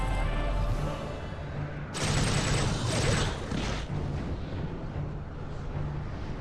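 Auto rifle gunfire in the video game TimeSplitters Future Perfect, heavy sustained bursts of loud shots with booming low rumble and a short pause between volleys.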